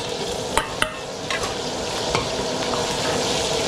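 Sliced onions sizzle and fry in a hot pan for pancit bihon, with a steady crackling hiss and a few sharp stirring scrapes near the start, close up and without speech.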